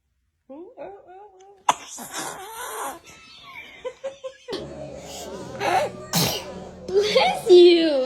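A baby sneezes several times in a row, short sharp bursts spread across the clip, mixed with small voice sounds and an adult talking nearby.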